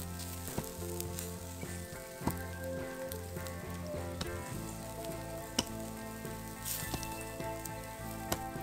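Steak sizzles and fries steadily in a hot pan at an outdoor camp, a dense continuous crackle with sharp pops and clicks as it is flipped, close and alone.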